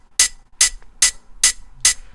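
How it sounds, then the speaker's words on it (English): Short, crisp hi-hat sample in a speed garage beat, five bright ticks evenly spaced with very quick decay, close and dry, and faint low drum hits under them. "I've got our main hi-hat."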